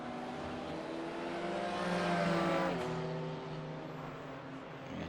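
A race car drives at Road Atlanta, a continuous engine drone with shifting pitch that swells to a louder peak mid-way, then eases off, heard alone with no talk.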